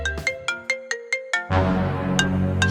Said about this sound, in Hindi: ये किसकी कॉल है?